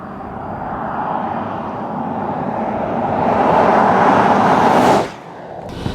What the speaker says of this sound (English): Let's see what this diesel can do, baby.